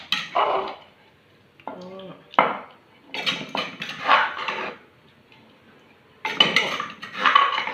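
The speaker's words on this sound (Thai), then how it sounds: "เดี๋ยวตักใส่ถ้วยก่อนนะครับ" Metal utensils clink and scrape against a pot and bowl in bursts as Isan-style eggplant soup is ladled out, close and intermittent, with short pauses between scoops.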